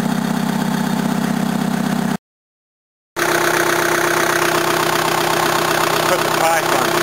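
Old Toyota engine idling with its exhaust pipe fitted, a steady, loud, slightly uneven low rumble that cuts out briefly, then resumes with a faint voice underneath.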